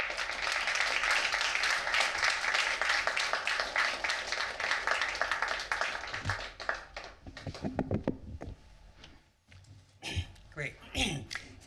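A book-talk audience applauds to welcome a speaker, dense sustained clapping for several seconds that thins out into scattered claps, with a voice starting to talk near the end.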